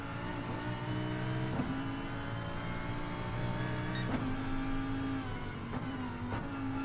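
Engine of a Lamborghini Huracan in a racing video game, a loud continuous high-revving drone that drops pitch as it downshifts into third, with brief blips between gear changes.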